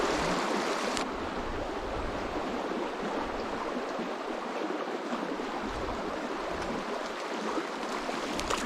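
A mountain trout stream holding rainbow and brook trout flows steadily, a continuous broadband rush of water with a light breeze, close and even, no voices.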